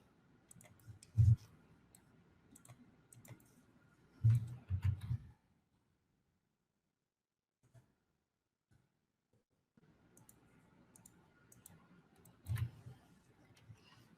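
Mouse clicks while using the binding tool in CLO 3D software come as quiet, sparse clicks in small clusters, separated by near silence.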